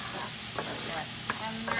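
Onions frying gently in a pan for paella, a steady close sizzle with a few light scraping clicks from stirring.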